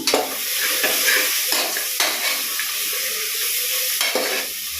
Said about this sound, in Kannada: ಇದಿಷ್ಟು ಚೆನ್ನಾಗಿ ಫ್ರೈ ಆಗಲಿ